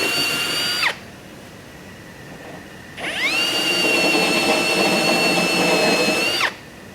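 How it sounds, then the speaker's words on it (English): A power drill bores holes into a brand-new, freshly painted Nissan Xterra fender: a high whining burst, a pause, then a longer steady drilling run that stops abruptly, loud and close. "that's what it looks like to drill holes in a brand new fender that's just fresh from paint"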